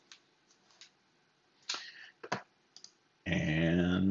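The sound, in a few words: typing a password on a computer keyboard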